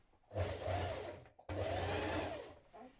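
A sewing machine stitches a 1.5 cm seam on a long coat in two bursts of steady motor whirring, the first stopping briefly before the second starts, close and fairly quiet with no speech.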